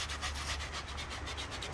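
Steady rhythmic scratching of sandpaper rubbed back and forth against a Dodge Ram 1500 brake caliper, close and continuous with a low rumble underneath.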